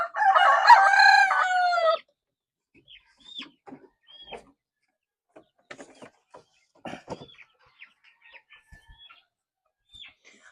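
A rooster gives one loud, close crow, followed by scattered clucks and soft calls from native chickens in a quiet backyard farm, with no talking.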